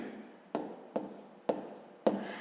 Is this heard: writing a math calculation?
yes